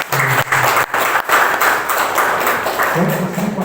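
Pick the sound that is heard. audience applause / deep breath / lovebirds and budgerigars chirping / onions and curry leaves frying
audience applause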